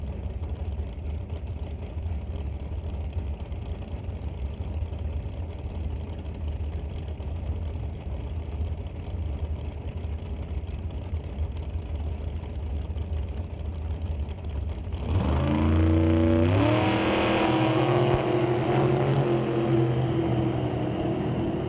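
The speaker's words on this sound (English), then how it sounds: "Colton Morin in the Modern Motorsports Race Tech Dragster, sporting 615 cubic inches of big block Chevy motor behind the pilot" Racing dragster powered by a 615 cubic inch big block Chevy engine, a steady distant engine rumble that suddenly swells into a loud, harsh roar with rising revs near the end.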